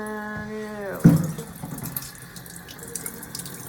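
A sink tap opens with a sharp gush after a brief squeak, then water runs steadily into the basin, splashing and hissing close by.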